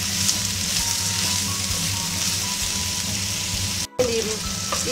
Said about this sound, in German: Die werden jetzt auch angebraten.